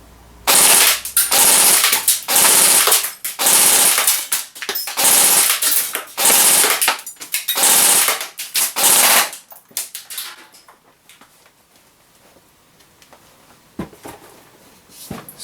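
Arrow Dynamic Arms A9 airsoft SMG with a 140mm barrel firing a series of rapid bursts, loud sharp clattering volleys in a steady rhythm for about ten seconds, then fading to quiet background.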